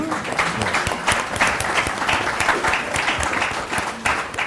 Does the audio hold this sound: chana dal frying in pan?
no